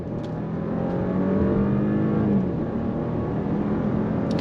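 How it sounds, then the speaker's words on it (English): A 2025 Audi Q7 55 Prestige SUV accelerates in sport mode, its engine note climbing steadily in a smooth, continuous rising drone heard from inside the cabin, with no talking. "we're gonna get on throttle a little bit and show off some of the handling characteristics of this Audi Q7"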